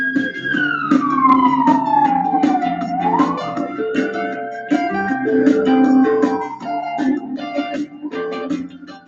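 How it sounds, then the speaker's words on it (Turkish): A fire engine or ambulance siren wails loudly from a street outside a workplace, sweeping down and rising again as it passes, with engine rumble beneath. "iş yerimiz cadde üzerinde olduğu için arkadaşlar itfaiye de geçebiliyor, ambulans da geçebiliyor"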